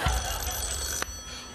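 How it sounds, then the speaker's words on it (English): A telephone rings with a bright, continuous electronic trill that cuts off sharply near the end, loud and close in a quiet indoor space. "I've never been so pleased to hear the phone ring."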